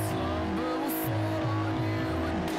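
Engine revving and accelerating in the Forza Horizon racing game on Xbox One, a steady motor drone with rising and falling pitch sweeps, with faint tire noise, loud and continuous.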